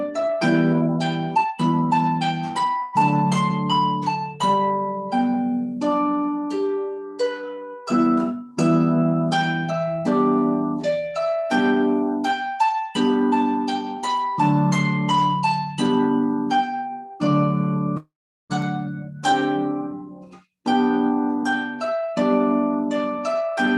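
A harp plays the B part of a stately tune, with steady plucked melody notes ringing over sustained chords and bass notes. It's clear, close and unaccompanied, with no talking.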